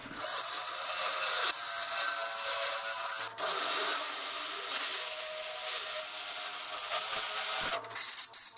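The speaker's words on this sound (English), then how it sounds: "I'm going to take a carbide burr on the end of a drill and then V that out" A high-pitched drill whines steadily as a carbide burr grinds and rasps a V-groove into a broken commercial mower blade assembly, with brief pauses between long continuous passes.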